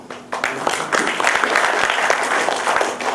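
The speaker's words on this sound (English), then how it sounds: "it's always nice to get clapped" An audience at a talk breaks into applause, a dense, lively burst of clapping that starts abruptly and stays loud and steady throughout.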